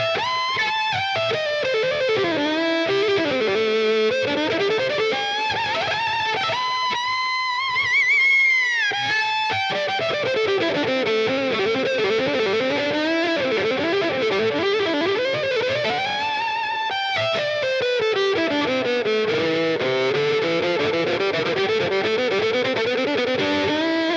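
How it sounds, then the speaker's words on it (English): Electric violin played through a Line 6 Helix distortion preset, a loud, continuous saturated buzz with sliding, gliding melodic lines and sustained notes throughout, no voices. "Here is distortion."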